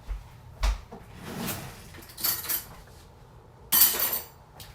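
A spoon is picked up in a home kitchen, with scattered clinks, a rattle and scrapes of cutlery and dishes as it goes into homemade hummus, close and intermittent.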